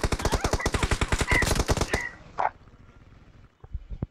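Rapid automatic gunfire in the mobile battle royale game BGMI, about two seconds of evenly spaced close shots, followed by a lone sharp report, a quiet gap and a few more faint shots.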